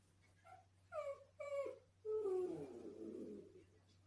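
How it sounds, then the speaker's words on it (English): A dog whimpers and whines in a Bigfoot encounter, a few short rising yelps followed by a longer drawn-out moaning whine, faint and close over a low steady hum. "But listen to the dog."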